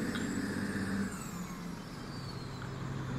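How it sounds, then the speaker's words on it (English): Truck engine revving in the video game Farming Simulator 17, a steady mid-pitched engine drone that eases off after about a second and keeps running alone. "see if we can push him with the truck."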